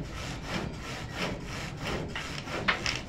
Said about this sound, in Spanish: por eso mi hermano le está cortando ahí porque no queda bien